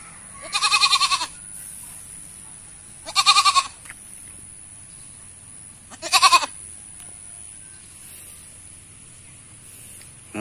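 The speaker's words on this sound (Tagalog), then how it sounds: "Napakabait ng mga alaga nilang kambing dito." Goats bleat three times at a rural Philippine house, each call a loud wavering cry a second or less long, separated by a couple of seconds of quiet yard background.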